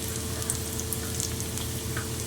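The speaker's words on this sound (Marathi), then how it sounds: "कांदा भाजल्यानंतर लाल तिखट घालायचं आहे" Onion and red chili powder fry in hot oil in a wok, a continuous close crackling sizzle with no voices.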